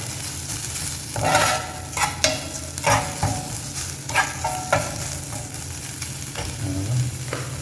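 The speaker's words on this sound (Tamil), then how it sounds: "ஸோ இது கொஞ்சம் நல்லா ஃப்ரை ஆகட்டும்." Beef balls fry in hot oil under a continuous close sizzle, broken by frequent scraping and stirring knocks of a utensil against the pan.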